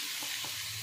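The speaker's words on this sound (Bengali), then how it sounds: "নারকেলটাকে একটু ভাজা ভাজা করে নেব।" Grated coconut fries in a pan with a soft, continuous sizzle and faint stirring scrapes, a brief low-level texture with no talking.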